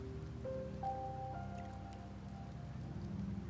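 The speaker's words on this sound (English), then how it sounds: "The rains in Septimont never seem eager to leave this season." Steady rain falls in the Wuthering Waves video game, a soft continuous patter and drip running throughout, with faint tonal music drifting over it and no voices.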